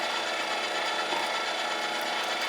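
An electric meat grinder forces cold meat through a coarse die, giving a steady, close, grinding mechanical whir with a rasping texture and no pauses.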